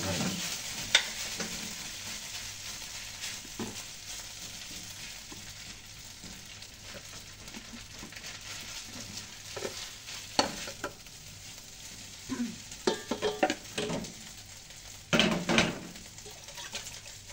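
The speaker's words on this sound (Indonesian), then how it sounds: "Kita goreng salmonnya guys" Salmon frying in a pan over low heat, a faint steady sizzle broken by occasional scrapes and clacks of a utensil stirring, with a few louder knocks toward the end.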